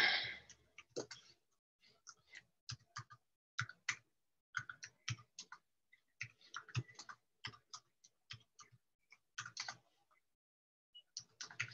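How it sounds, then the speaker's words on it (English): Several people type in parallel on computer keyboards, producing bursts of quick clicking keystrokes that start and stop irregularly, fairly close and moderately loud, with no talk over them. "we'll have all that parallel typing"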